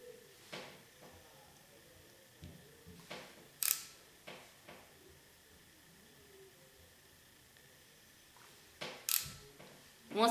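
Luscious Lipstick tube clicked several times, scattered sharp plastic clicks in short clusters against a quiet background, close and crisp.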